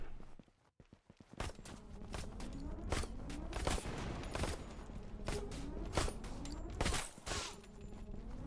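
Rapid gunfire from several enemies shooting at once in the game Suit for Hire, a dense run of sharp, loud shots with irregular clusters that starts after a brief quiet moment and continues to the end.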